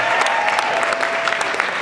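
An audience at a city gala breaks into dense, sustained clapping that fills the room evenly from start to finish.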